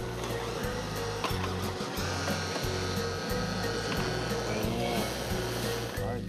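A blender grinds a simmered sauce of fresh cream and milk for a steak dish, a steady loud whir running throughout with a low motor drone beneath, while people talk over it.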